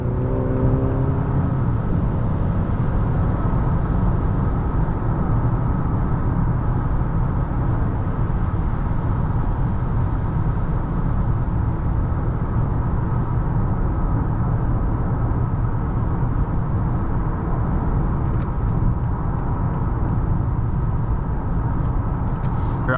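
A 2020 Honda Accord EX-L 2.0T turbo accelerates hard for a pass, a loud continuous engine and road roar heard from inside the cabin that holds steady for the whole stretch.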